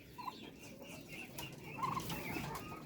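Chickens cluck softly while pecking at scattered feed at morning feeding, several low clucks and a faint flutter over a steady outdoor background.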